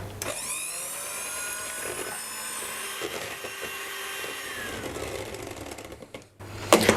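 An electric hand mixer whips eggs, sugar and a pinch of salt into a light sponge batter, a steady close whine with shifting pitch as the beaters move through the bowl, then stopping near the end with a brief clatter.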